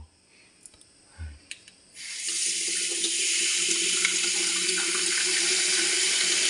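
Water gushing steadily from a faucet after a few soft clicks and knocks, the stream starting abruptly and then running loud and unbroken, close by.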